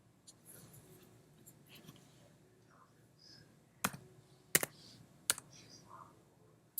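A value being typed on a computer keyboard, a few soft key taps followed by several sharper isolated clicks, quiet and close, with faint low murmuring in the background.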